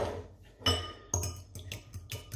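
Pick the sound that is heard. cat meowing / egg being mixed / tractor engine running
egg being mixed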